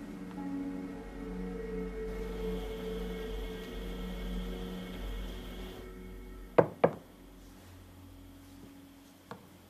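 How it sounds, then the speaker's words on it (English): Two quick, sharp knocks on a door, close and distinct, follow a low background hum that cuts out just before them. A fainter single tap comes a few seconds later. "You know you don't have to knock."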